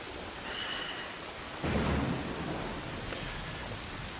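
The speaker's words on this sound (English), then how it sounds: "It's raining. That's good." Rain and thunder in the video game Assassin's Creed Shadows, set in feudal Japan: a steady wash of rainfall with a low rumbling thunder burst rising sharply partway through, then fading back into the rain.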